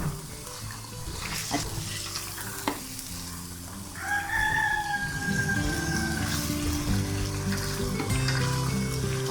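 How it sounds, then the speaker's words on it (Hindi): A white rooster crows once in the middle, ringing out over a backdrop of stirring and sizzling sounds of methi gosht, meat with fenugreek, being fried. "ये मेरा वाइट मुर्गा है।"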